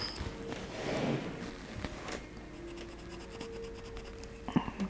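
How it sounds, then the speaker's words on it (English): Pencil shading across a paper collage, a dry scratchy scribble most dense around the first second, then lighter, intermittent strokes near the microphone with a few small taps and knocks toward the end. "Should probably get my pencil and just do a little bit of shadowing."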